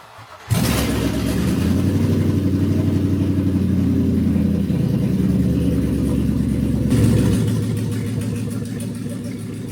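An LS V8 engine swapped into a Land Rover Discovery 2 fires up, then rumbles and revs as it pulls away, its deep burble steady before easing off near the end.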